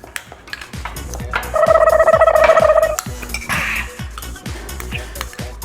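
Pots and dishes clatter during a playful household challenge with a grandmother. A metal vessel rings with a sustained clang among repeated knocks and clinks, loud and close.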